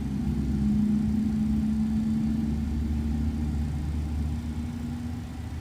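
A McDonnell Douglas MD-11F freighter's engine startup in a flight simulator, with a steady low drone and a sustained mid hum running loud and continuous throughout, alone with no talking.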